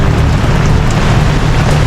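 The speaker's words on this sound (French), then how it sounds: "Bon bah il pleut." Rain falls on a sailing catamaran at sea during a crossing from Greece to Sicily, a loud, dense, steady wash of drops with a low rumbling undertone and no talk.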